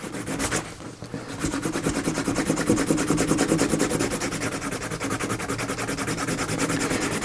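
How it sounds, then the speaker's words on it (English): Burnishing wheel rubbed briskly along the edge of a handmade leather belt, a steady close rasping friction that runs continuously after a brief pause near the start. "Just take your burnishing wheel,"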